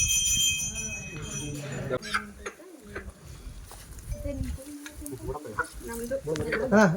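Chickens being kept for sale cluck and call in short, repeated, fairly close bursts, mixed with other bird calls and heard under ongoing conversation.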